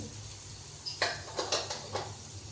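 Chana dal and urad dal dropped into hot oil, a soft steady sizzle with a few light metallic clinks of a spoon against the pan.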